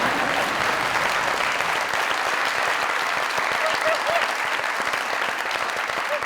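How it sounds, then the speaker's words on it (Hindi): Steady, loud applause from a studio audience at a Pakistani comedy talk show, dense clapping sustained throughout with no voices over it. "जोरदार तालियां।"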